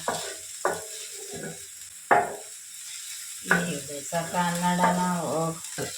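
Tomatoes fry in a pan with a steady background sizzle and a few clattering stirs, while people talk over it.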